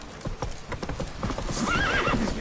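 A horse gallops in The Witcher 3 (Blood and Wine), its quick hoof beats clopping close and steady before a neigh and whinny rise near the end.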